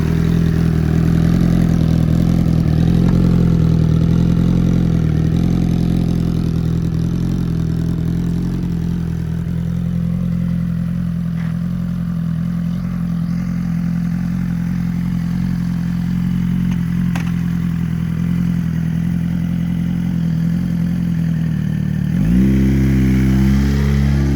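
A 2018 Suzuki GSX1000R L8 motorcycle engine runs close and loud with a steady low idle, easing slightly midway, then rising into a sharp rev near the end.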